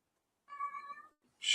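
A domestic cat meows once, a clear tonal call up close in an otherwise quiet room, followed a moment later by a short burst of hiss-like noise.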